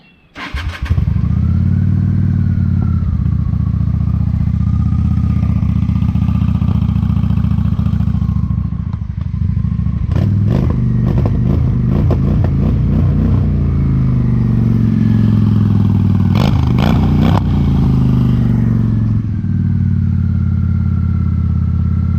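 A 1998 Honda Shadow 750 ACE cranks over, fires and settles into a loud, steady idle, with a few brief throttle blips partway through, recorded up close with no talking.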